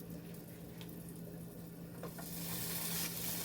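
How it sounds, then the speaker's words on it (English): Soft, steady sizzling and crackling of potatoes, onions and smoked sausage frying in a pan, with a low hum underneath and a slight swell toward the end. "it's still got a little sizzle to it"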